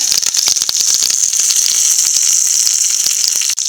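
Small onions and curry leaves frying in hot oil with dried red chillies, a loud, close, continuous sizzle with crackling pops and no talk.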